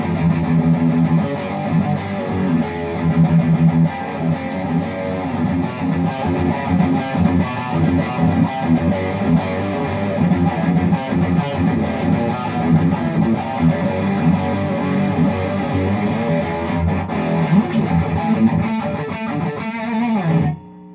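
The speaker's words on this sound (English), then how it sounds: "let's throw distortion all the way up, or the volume, and then use the master. I mean, this is a high gain amp." An electric guitar played through a high-gain amplifier with the distortion turned all the way up produces a loud, dense, saturated wall of chords and sustained notes for about twenty seconds, then cuts off abruptly at the end.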